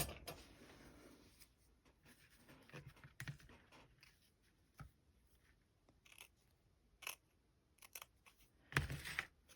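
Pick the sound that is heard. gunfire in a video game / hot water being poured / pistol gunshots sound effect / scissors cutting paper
scissors cutting paper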